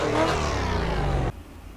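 A race car engine from the Assetto Corsa racing simulator roars loudly at high revs, then cuts off abruptly, leaving quiet background.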